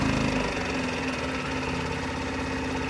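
Close outboard tender motor idling during warm-up with the choke pushed fully in, a steady, throbbing mechanical rumble and a brief higher whine at the start that settles down.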